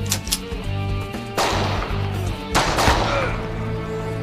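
Gunshots ring out in a Turkish TV series shootout, with a few sharp cracks early and two loud, reverberating blasts about a second apart, no voices over them.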